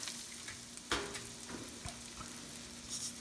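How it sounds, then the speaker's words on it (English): Onions cook in melted butter in a pan for a spicy tomato garlic shrimp dish, giving a soft, steady sizzle with a few stirring clacks and scrapes, quiet and close. "So next is our onions. Okay, we'll just cook the onions"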